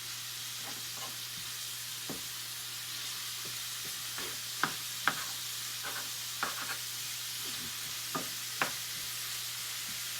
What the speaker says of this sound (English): to stir it to get the oil on all of the noodles